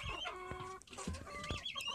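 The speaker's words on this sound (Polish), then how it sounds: "Kura siedzi właśnie, znosi jajko." Hens clucking inside a poultry coop with nests and perches, a run of close, repeated throaty clucks and short calls, with no talk.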